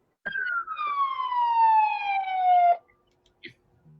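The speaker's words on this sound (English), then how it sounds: "there was a siren." A single loud siren wail glides downward in pitch for about two and a half seconds, then cuts off, leaving near silence with a faint click.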